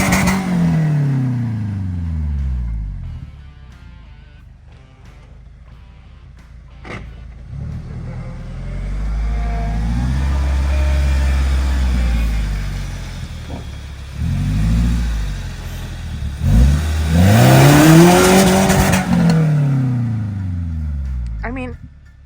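Toyota 4x4 truck fitted with a 14-bolt axle and ARB air lockers, its engine revving up and down in several rising and falling surges while driving, with people talking over it at times.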